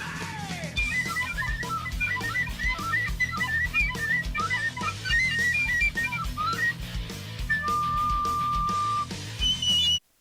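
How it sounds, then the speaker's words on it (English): A recorder flute plays a run of quick, high, breathy notes, then holds one steady tone before a few final notes, over a busy background. "We used a recorder flute, and I still play recorder flute to this day"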